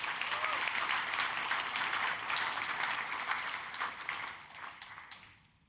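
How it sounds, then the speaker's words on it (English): Keynote audience at the Chainguard Assemble event gives a big round of applause, a dense, steady clatter of clapping that thins out and fades to quiet over the last second or so. "One more big round of applause for all the Chainguard customers."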